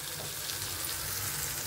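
Food sizzling steadily in a hot pan while spicy chutney ingredients fry on a gas stove, a constant close crackle with no talk.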